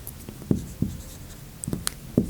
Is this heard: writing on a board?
yes